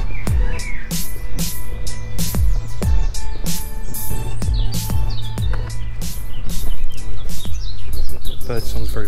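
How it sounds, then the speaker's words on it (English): Loud, dense birdsong fills the churchyard of All Saints Church in Carshalton, many chirps and trills overlapping continuously and close by, with no one speaking. "Birdsong's very prominent."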